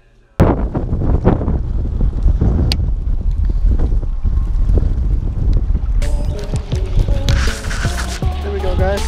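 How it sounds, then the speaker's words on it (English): Strong wind buffets the microphone during a bass fishing trip around rocks in Oklahoma, a steady loud roar with gusts, joined later by water and boat noise. "it's very windy"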